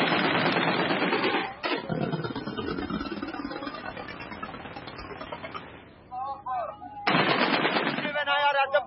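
Gunfire rattles through a battle zone in Libya where multi-barrel Grad rocket launchers are firing, dense bursts running almost continuously, a brief pause midway, then a loud burst returning near the end, with faint voices in between.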